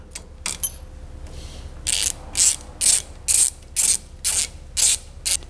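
A hand ratchet unbolts the fuel rail on a Mini Cooper with a 1.8T swap, giving about eight evenly spaced, crisp clicking bursts up close after a few faint knocks at the start.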